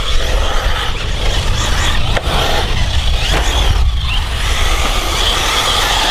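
An ARRMA Typhon RC car races in a steady, loud, close whine and rumble of motor and tires running without a break.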